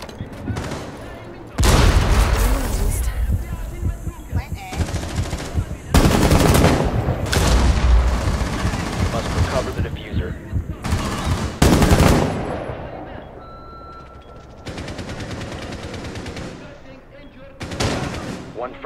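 A grenade goes off amid heavy gunfire in Rainbow Six Siege, with loud bursts of automatic fire and sharp explosive booms crowding most of the stretch. Quieter gaps and radio-style voice lines sit between the volleys.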